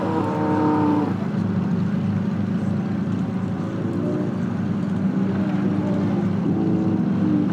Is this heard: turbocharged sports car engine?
yes